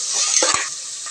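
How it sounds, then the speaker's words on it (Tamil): Steady close sizzling of ginger, garlic and onions sautéing in a pan, with a couple of quick stirring clinks from a spoon. "நல்லா வதக்கிக்கலாம்."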